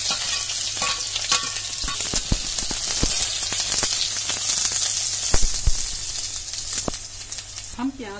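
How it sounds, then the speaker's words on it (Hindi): Chopped onions crackle and sizzle in hot oil for aloo thechauni, a loud, dense, continuous frying hiss close by with scattered sharp pops and a spatula scrape or two. "प्याज को भून लेंगे।"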